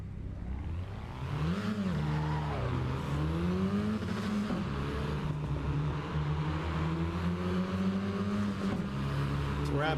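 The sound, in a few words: racing car driving and braking, Assetto Corsa Evo video game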